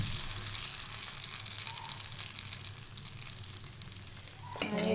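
Batter spread thin over a hot pan with a little oil gives off a steady broad sizzle and hiss, fairly quiet and even throughout, with a short metallic clink near the end.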